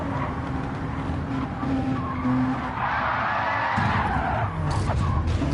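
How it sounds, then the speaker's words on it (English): Gran Turismo 7 race car, a Genesis, losing grip on the exit at Tokyo Expressway South and slamming into the barrier: sustained engine roar and tire skid noise, loud and continuous, with a heavier scraping surge midway. "unsettled the car on the exits and throwing the Genesis into the barrier"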